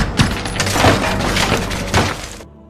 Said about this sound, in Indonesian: sisanya membalas dengan brutal menghancurkan kaca jendela